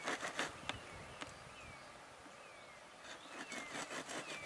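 Wasps buzzing around a freshly cut paper wasp nest, faint thin whines rising and falling at a short distance amid light rustling and a few sharp knife scrapes close by.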